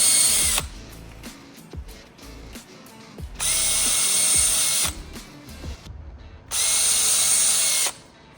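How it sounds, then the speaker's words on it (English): A power drill bores pilot holes for the hinges of a Ford Model A luggage trunk, with two long, loud, steady whirring runs close by and short clicks and bumps between them. "drilling 3 pilot holes for each of our 3 hinges"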